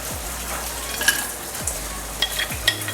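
Chicken biryani ingredients fry in hot oil, a steady close sizzle with a few light stirring clinks and scrapes against the pan, no voices.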